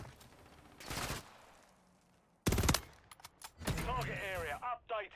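Rapid gunfire bursts from a video game, a loud volley cutting in midway followed by further sharp shots, with someone talking over and between the bursts.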